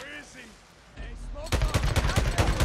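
Rapid bursts of gunfire in the video game Days Gone, a loud string of repeated shots that starts partway through and continues to the end, with a voice heard faintly near the start.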